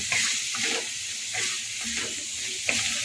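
Spices for a bitter gourd curry are sautéed with oil in a pan, making a steady close hiss and sizzle, broken now and then by the scrape of a spatula being stirred.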